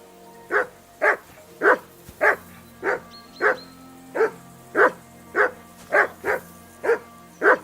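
Roughly a dozen loud, regularly spaced barks from a dog in Kingdom Come Deliverance 2, close and clear over a quiet game ambience with no talking.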